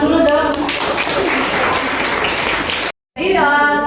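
Applause for a team that has just given a class presentation, broad clapping filling the room for a few seconds, cutting out briefly before resuming with voices.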